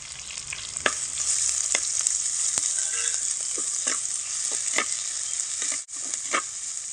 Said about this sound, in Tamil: இப்போ ஒரு 2 வெங்காயம் எடுத்து அரிஞ்சு வச்சுருக்கேன், பெரிய வெங்காயம், அதை போட்டுக்கலாம்.